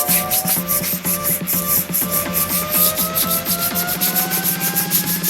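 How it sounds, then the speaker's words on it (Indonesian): Brake shoe lining on a Mitsubishi rear drum being sanded with abrasive paper, a steady rhythmic rasping scrub of quick repeated strokes, close and loud, continuing throughout with no talk. "jangan lupa lilingnya diamplas juga"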